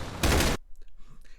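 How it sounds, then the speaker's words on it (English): A bolter, the heavy gun of the armoured Astartes warriors in the animation, fires a short, loud burst of rapid shots lasting under half a second. Faint rustling and scattered noise follow. "Also the bolter shots from the sound are really nice."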